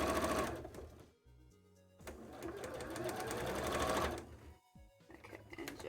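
A sewing machine stitches fabric for a cosplay tail in several close bursts of rapid mechanical whirring. The bursts are broken by brief gaps with small clicks and handling sounds.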